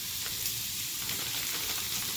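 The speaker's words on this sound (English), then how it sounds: "Got our sausage cooking up here." Sausage and ham sizzling together in a frying pan, a close and steady crackling hiss that carries on evenly without any talking.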